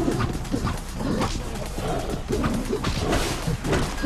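A robot dog attacking in the video game Tokyo Jungle, rapid repeated growls, yips and bark-like bursts in a busy, loud continuous scuffle.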